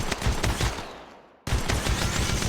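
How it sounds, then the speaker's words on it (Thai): Rapid automatic gunfire in Apex Legends Mobile rattles loudly in close bursts, cuts out into a brief fading tail, then resumes abruptly with more fast shots. "กำลังโดนยิงด้วยมีอีกทีมกำลังมา"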